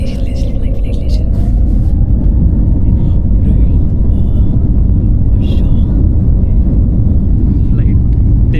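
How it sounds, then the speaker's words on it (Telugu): Passenger jet engines roar steadily from inside the cabin as the flight from Hyderabad to Leh gathers speed for takeoff, a loud continuous low rumble, with a few faint voices over it. "ఫ్లైట్ టేకప్ అవ్వబోతుంది. అరే ఏందో స్పీడ్ ఏంట్రా"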